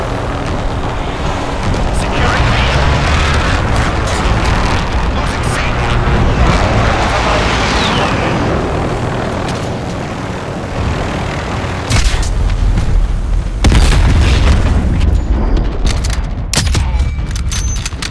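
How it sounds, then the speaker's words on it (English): Explosions from a precision airstrike rumble and crack in the Call of Duty: Modern Warfare Ground War battlefield, heavy booming bursts layered with gunfire and radio callouts, loud and continuous with sharper blasts near the end. "Allied precision airstrike incoming"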